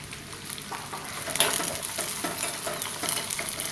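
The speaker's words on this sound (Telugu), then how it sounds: "ఒక స్పూన్ పెసరపప్పు ఒక స్పూన్ సాయమినపప్పు రెండు ఎండుమిర్చి వేసి ఫ్రై చేయండి" Dry coconut, spices, moong dal, urad dal and dried red chillies fry in a pan, giving a steady close sizzle with light stirring scrapes throughout and no talking.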